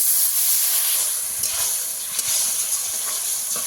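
Water poured into hot spiced curry masala in a pan gives a steady hiss of steam that stays fairly loud and constant throughout, with faint bubbling and small crackles underneath and no voices.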